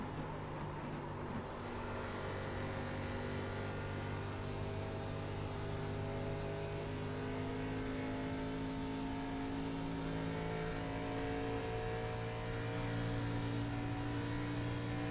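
A V12 race car engine in the iRacing simulator drones steadily at high revs for the whole stretch, a constant mid-level engine tone with no talk over it.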